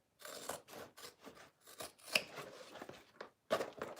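Scissors snip through fabric corners while sewing, a series of short crisp cuts with brief pauses and a louder snip near the end, fairly close and without talk.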